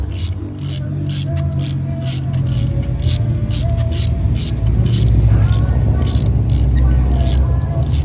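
Ratchet wrench with a socket tightening a car spark plug, a rapid metallic clicking that runs steadily and close up throughout, loud against a low background rumble.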